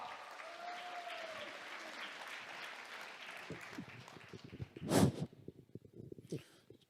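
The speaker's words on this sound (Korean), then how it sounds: "큰 박수로 부탁합니다." Applause from an audience greeting a military general starts as a dense patter of clapping, then thins into scattered claps with one sharp burst near the end.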